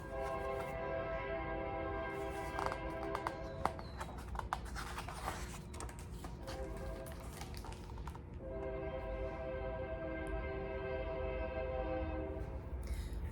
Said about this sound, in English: And that is the train.